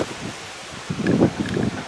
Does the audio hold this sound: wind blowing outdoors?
yes